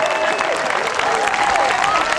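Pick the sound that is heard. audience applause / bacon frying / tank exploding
audience applause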